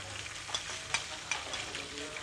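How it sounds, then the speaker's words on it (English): Soft sizzling and crackling of raisins frying in hot oil, with a few small pops and light stirring. "sizzle them up a little bit"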